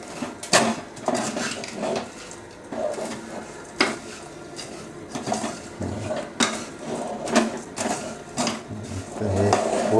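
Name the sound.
mixing shev ladoo mixture in a pot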